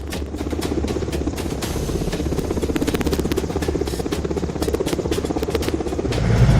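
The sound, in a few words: MI-17 helicopter hovering overhead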